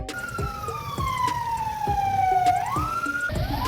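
A North Macedonian ambulance siren, likely on a Mercedes-Benz Sprinter, sweeps slowly down then rises again, loud and close, with sharp clacking transients punctuating it and traffic rumble underneath.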